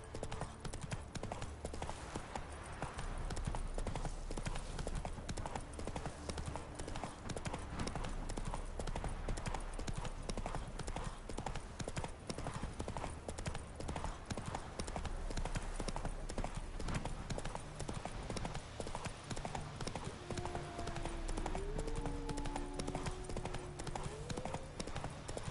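Geralt's horse Roach gallops steadily in The Witcher 3 on PS5, with dense rapid hoofbeats running the whole time under game ambience and brief vocal sounds near the end.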